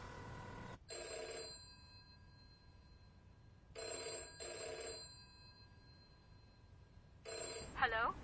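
A telephone rings in bursts, three distinct electronic ring patterns separated by pauses, fairly quiet and close, with a voice breaking in near the end.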